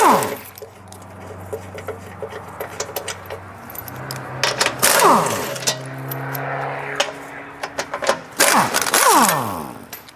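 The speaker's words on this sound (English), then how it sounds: "I'm gonna remove all these 16mm bolts." Metallic clinks, rattles and the ratcheting of a wrench come from underneath a BMW as 16mm bolts are removed, with bolts clattering at irregular intervals over a low background hum. A voice can be heard faintly at times.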